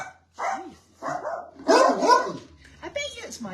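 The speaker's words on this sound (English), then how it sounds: "I bet you it's my blinking dog." A pet dog barks and yips in several close, loud bursts that overlap with people talking.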